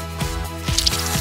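A decorated cake topped with gem decorations being cut, giving two or three soft, close, moist squishing strokes, heard alone without talk.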